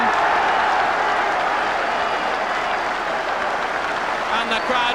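Rugby crowd applauding a try at a 1973 Coventry v Bristol knockout match, a steady dense roar of clapping and cheering that fills the whole stretch at high volume, with a commentator talking over it.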